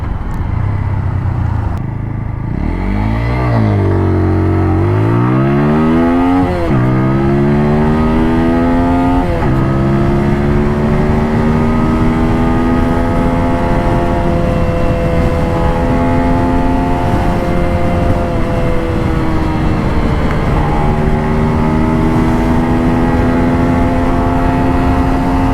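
An Apache RTR 200 4V BS6 motorcycle pulled hard through the gears, the single-cylinder engine revving up in long rising sweeps with brief dips at each shift, loud and close throughout with no talking.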